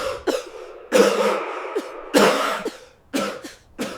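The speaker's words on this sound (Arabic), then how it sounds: "بتعاني من كحة زي دي،" A person coughs several times, harsh and chesty, in bursts of varying length with brief pauses between them, close and loud with no speech.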